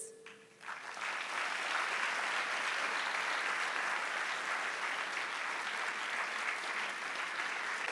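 Audience applause for two guest speakers at a careers talk with a writer and a cartoonist, a dense, steady wash of clapping that swells quickly after a brief quiet start and holds loud and even throughout.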